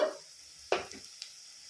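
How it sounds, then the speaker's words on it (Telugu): Onions frying in a pan for a Telugu-style fish curry, a soft sizzle with a sharp stir or scrape of the spoon partway through, quiet and close. "ఆనియన్స్ మంచి రంగు రావాలి అప్పటి వరకు వేయించుకోవాలి"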